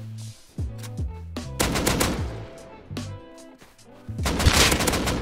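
Rapid bursts of gunfire from the survival game Rust, several quick volleys of close, loud shots with short pauses between them.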